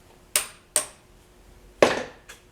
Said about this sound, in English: I like the wrench because I could smack it with a hammer.